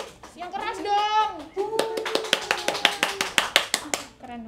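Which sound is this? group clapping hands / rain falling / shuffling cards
group clapping hands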